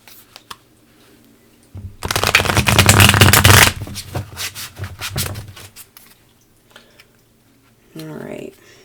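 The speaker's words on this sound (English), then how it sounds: "Sorry, this takes forever when I shuffle" A deck of tarot-style cards is shuffled by hand close up, a dense papery riffling and rubbing burst lasting a few seconds, then softer card taps and brief speech afterward.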